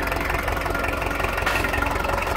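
Kubota V1305 four-cylinder diesel engine idling, a steady close knocking rumble with an even rhythmic pulse throughout, loud and alone.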